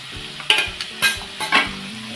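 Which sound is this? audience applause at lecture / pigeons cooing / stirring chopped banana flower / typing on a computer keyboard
stirring chopped banana flower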